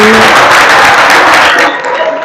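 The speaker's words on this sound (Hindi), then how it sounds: "एक बार अपने लिए तालियां बजा दो बढ़िया सी" A burst of loud group applause from a large crowd, dense and continuous, cutting off abruptly near the end.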